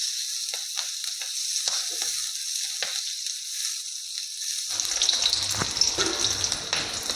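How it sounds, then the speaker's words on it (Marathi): Onion hits hot oil and fries on a high flame, a bright continuous sizzle that grows rougher and busier with scraping and crackle toward the end. "आता यामध्ये टाकूया आपण कांदा। आपल्याला जोरात गॅसवर हे चांगलं परतून घ्यायचं आहे।"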